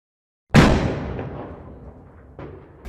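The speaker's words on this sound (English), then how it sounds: "Now you can import a gunshot sound effect by just dragging it right here into your timeline" A single gunshot sound effect cracks sharply and loudly, then rolls away in a long fading echo, with a second, fainter report near the end; no voices.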